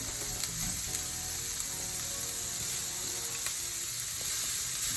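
Spring onion frying with ginger in a hot pan, a close, continuous crackling sizzle with faint stirring scrapes and no voices.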